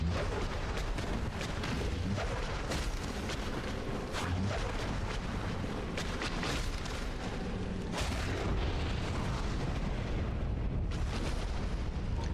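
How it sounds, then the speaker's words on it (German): Rumbling booms and bursts of an explosion or lava eruption in Dark Souls Remastered, a dense, loud, continuous roar with repeated sharp impacts throughout and no talking. "Explodiert er jetzt wieder oder wurde jetzt hinten quasi Lava rausgepupst?"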